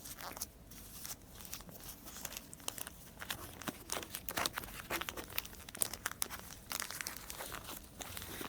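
Oil paper crinkles and crumples around a packaged, brand-new China-made injector valve assembly. The crackle is close, continuous and irregular, with sharp bursts of rustling throughout and no talking.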